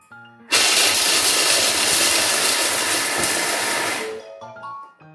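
A loud, steady whirring roar of a kitchen appliance running at high speed for several seconds, then winding down with some rattling.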